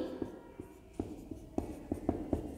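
Chalk or pen writing during a Hindi lesson for sixth-grade students, a series of short, sharp strokes tapping and scratching in an irregular rhythm, close and fairly quiet, with no talking.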